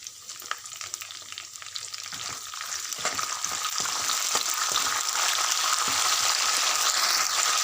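Peanuts and fresh curry leaves fry in hot oil, a continuous bright sizzle that swells and grows steadily louder over several seconds, with occasional stirring clinks and scrapes in the pan.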